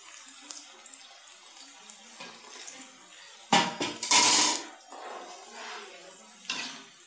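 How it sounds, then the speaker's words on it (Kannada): About three liters of hot water poured into a pot for an Assamese-style fish curry, a splashing gush that swells for roughly a second midway, set against a faint clatter of kitchen activity. "ಒಂದು 3 ಲೀಟ್ರಷ್ಟು ನೀರು ಹಾಕ್ತಾಯಿದ್ದೀನಿ"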